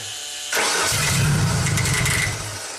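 A car engine cranks and catches after a brief quiet moment, then settles into a loud, steady idle close by. The car has a throttle-body fault, and nobody speaks over it.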